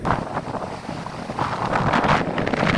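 Strong wind gusts at a waterside fishing spot, roaring steadily and loudly into the microphone for the whole stretch with no letup and no talk.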